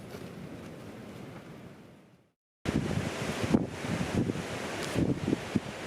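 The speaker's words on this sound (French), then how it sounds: "Un vent du sud, donc pour ceux qui suivent, ça veut dire que je l'ai dans le dos." South wind blowing across open tundra on the flanks of Galddoaivi, roaring and buffeting the microphone in loud broadband gusts after a brief drop to silence.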